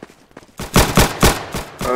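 Gunfire in the video game Arsenal: a quick volley of four or five loud, punchy shots in rapid succession, preceded by quieter clicks.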